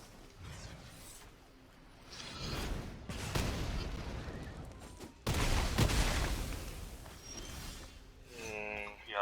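Shivan Fire spell effect in the Magic Arena card game: a crackling burst of fiery impacts and whooshes, with two louder blasts near the middle over a low rumbling bed.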